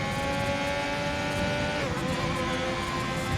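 A race car engine revs hard in the lower gears during a wet race, holding a steady, droning pitch that dips briefly midway, heard at a distance without speech.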